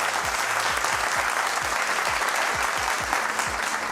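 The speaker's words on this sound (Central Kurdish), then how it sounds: "بژیت پەریسا یەک چەپڵی بەهێز" A studio audience at a game show gives strong, sustained applause, dense and even clapping throughout with no voices over it.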